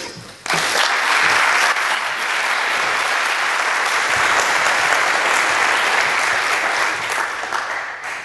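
A live audience at a talk bursts into loud, sustained applause to welcome the speaker Andy Gibson. The clapping starts abruptly after a brief pause and fills the room evenly to the end, easing off only slightly.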